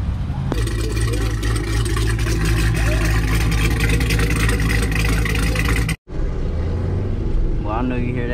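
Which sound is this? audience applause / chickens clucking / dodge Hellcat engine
dodge Hellcat engine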